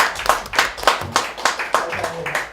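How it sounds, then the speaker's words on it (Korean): An audience at a lecture event claps for the interpreter, a lively ragged round of hand claps at a steady pulse, close and fairly loud for a couple of seconds. "여러분 박수 한번 쳐주십시오."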